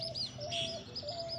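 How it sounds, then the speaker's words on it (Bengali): A dove calls outdoors with a few soft, repeated cooing notes, faint and at a moderate distance, with no talking. "এই তো ঘুঘু পাখিটা ডাকছে"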